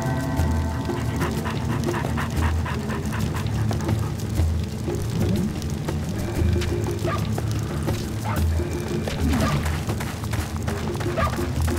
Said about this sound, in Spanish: el perro está matando gente